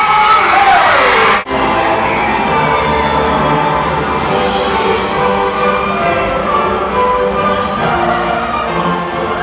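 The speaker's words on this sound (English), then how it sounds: "band your voices together and raise a final cheer for your knights of Love" A large crowd cheers and whoops for jousting knights at a Medieval Times show, a sustained, loud roar of many voices filling the arena after a brief pause near the start.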